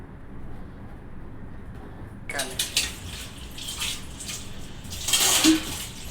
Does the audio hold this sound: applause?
no